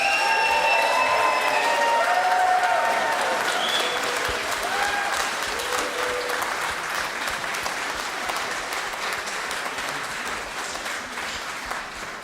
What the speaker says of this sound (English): can you please make that round of applause much, much louder for Charlotte Roberts and the Convent choirs